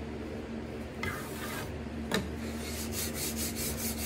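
A hand-held card scraper works across a wooden gate leg table with the grain, giving steady rasping, scratchy strokes and one sharp scrape partway through, with no talk.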